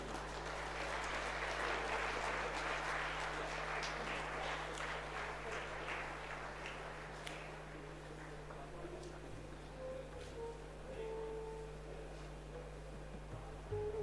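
Applause from the audience at a tax practitioners' national convention after a souvenir release, a dense wash of clapping that is strongest in the first half and thins out toward the end, with a steady low hum underneath.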